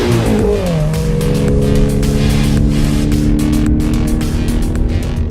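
A turbocharged Toyota GT86 engine runs loud and close, its tone dropping briefly before settling into a steady, strong drone with a rough, pulsing exhaust note.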